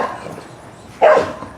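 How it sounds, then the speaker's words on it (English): Dogs at play indoors, one short, loud bark-like burst about two-thirds of the way in after a stretch of quiet rustling and faint movement. "My dogs are playing."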